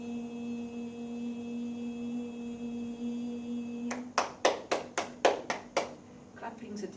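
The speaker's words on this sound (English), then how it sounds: "Clapping's a dispersal of energy." A group claps hands in a quiet sound-healing session, about seven sharp, fairly close claps in an irregular rhythm over a steady sustained tone, followed by a few softer taps.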